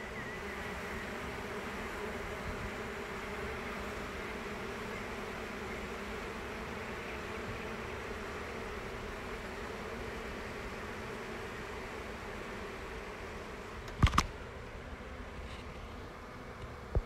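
A honeybee swarm on a small tree trunk gives off a dense, steady buzz that holds close and continuous. Near the end come a brief knock and a rustle.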